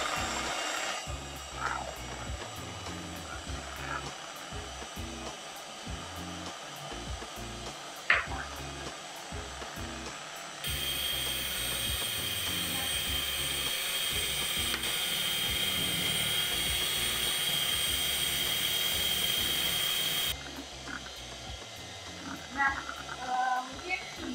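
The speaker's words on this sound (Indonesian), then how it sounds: "Mungkin Manda boleh di mixer, bisa kurang lebih sekitar 7 sampai 10 menit." An electric mixer whips cake batter with a steady high whir that starts about halfway through, runs for roughly ten seconds, then cuts off. Someone speaks over the kitchen noise before and after.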